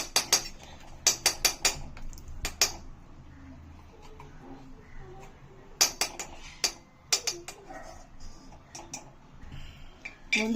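Cashews dropped into ghee in a metal pan while making lapsi, giving bursts of small, bright clicks and taps of nuts and utensil against the pan, fairly quiet, with pauses between clusters.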